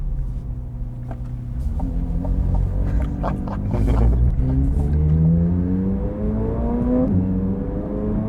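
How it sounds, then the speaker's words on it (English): Corvette C8 Z06 accelerating hard, its engine note rising in pitch through a long pull with a brief shift dip, loud and close from inside the cabin, no voices. "difference in sound is just crazy, man. And you can hear that big time through that back window."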